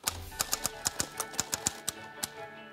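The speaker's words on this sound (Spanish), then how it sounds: "yo la escribo en una máquina de escribir" A manual typewriter types at close range, giving about a dozen sharp, irregular key strikes over a low hum.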